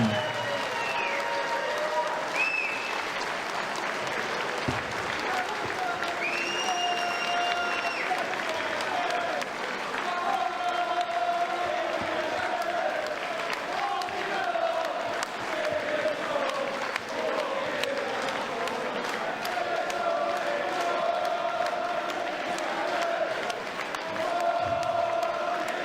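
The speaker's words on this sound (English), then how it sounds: "we should follow that with a minute of applause" A boxing crowd at a live fight night in Sheffield applauds and cheers for boxer Ricky "the Hitman" Hatton, steady dense clapping filling the whole stretch, with whistles and scattered shouts rising over it.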